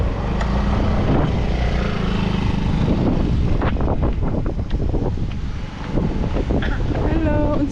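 Strong outdoor wind in Bali buffets the microphone in heavy low rumbling gusts throughout, with scattered voices and knocks under the roar.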